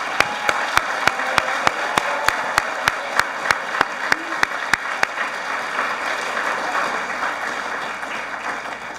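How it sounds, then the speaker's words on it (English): Audience applause at a summer research capstone conference honoring students, a dense wash of clapping with a few sharp, regular louder claps standing out near the front, steady throughout. "Can we give just one more, or at least one more round of applause for our students this year?"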